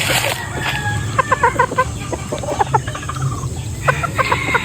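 Kanawayon pullet chickens clucking in a run, several birds giving short, repeated clucks and calls close by over steady low background noise, with no talk.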